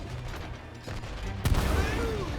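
A sharp, heavy blast cuts through a steady rumbling din, followed by rolling booms and continued loud noise, cannon fire in the video game It Takes Two.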